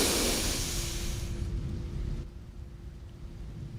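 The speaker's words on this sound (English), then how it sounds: "It's raining in here." Rain pours with a broad hiss, and a low thunder rumble fades during a breathing exercise; the rain stays steady and fairly soft, with no voices.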